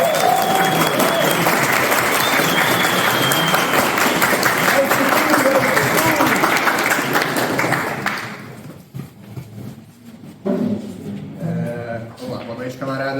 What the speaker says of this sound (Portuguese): Salve de palmas para o camarada Machado.